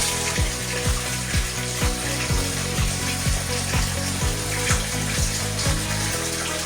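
Water gushes and drains steadily from a catfish hatching tank, a continuous rushing flow with a repeating rhythmic pulse underneath, and no voices.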